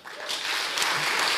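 An audience at a Dutch interview event with a minister breaks into warm applause, a dense steady patter of clapping that swells quickly and holds.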